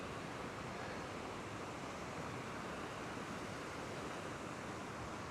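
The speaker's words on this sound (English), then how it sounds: "The flow of the water is amazing." Water surging and waves breaking at the foot of coastal cliffs, a constant dense roar with no distinct individual crashes, steady in level for the whole stretch and free of voices.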